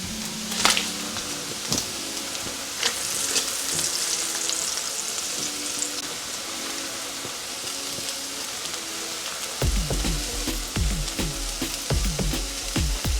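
Strips of bacon sizzle steadily in a frying pan, a continuous close crackle with occasional louder pops and scraping clatters of a utensil toward the end.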